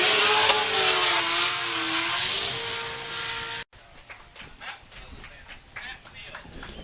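Drift cars race at a Formula Drift round in Miami, with a Nissan 240SX chased closely by Matt Field's car. A loud, sustained engine roar with shifting revs comes under a commentator's talk, then cuts to quieter, choppier engine noise.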